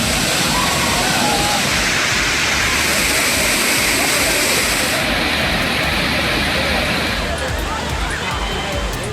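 Loud, steady roar of the Hogenakkal waterfall in Dharmapuri, where tourists bathe, a continuous rush of falling water that fills the whole span, with faint crowd voices mixed into the spray.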